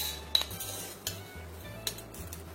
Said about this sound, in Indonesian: Kita tambahkan 3 sendok makan gula halus atau gula kastor.